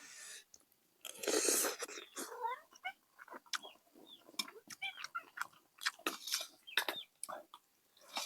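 A cat hovers near someone eating chicken stew with greens, its meows mixing with close chewing, clicks and small mouth noises in a quiet room, with someone talking softly now and then.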